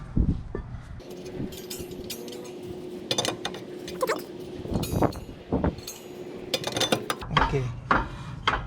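Brake rotor of a 2002 Lexus SC 430 being fitted onto the rear hub, giving light metallic scraping, rubbing and clinks in short bursts at close range, with a steady low hum underneath.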